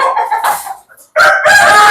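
Free-range hill-farm chickens, a close, loud rooster crow with clucking around it, cut by a brief pause before another crow rings out.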